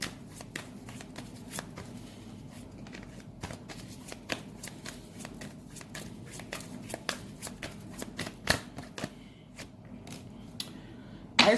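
Tarot cards shuffled steadily by hand, a dense papery riffle with sharp snaps and taps as cards are cut and drawn, close and fairly loud, with a brief quiet pause near the end before a final slap.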